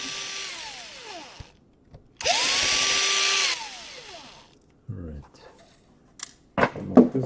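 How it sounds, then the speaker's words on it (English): A Dell Inspiron 15 3000 laptop has a hinge screw backed out with an electric screwdriver, heard as two whirring bursts that ramp up and down, followed by clicks, taps and handling noises. "remove the screw from the hinge"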